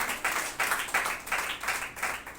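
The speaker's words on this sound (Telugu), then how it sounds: "చప్పట్లు కొట్టి ప్రభువుగా." A church congregation at a Sunday service claims hands in a steady rhythmic beat, about three claps per second, moderately loud and without voices.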